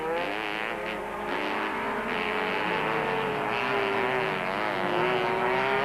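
Race cars, including a VW Beetle 4x4 Turbo, running in a 1997 Super Series heat; a loud, sustained engine drone holds steady, then its pitch slowly climbs and falls as the cars push on.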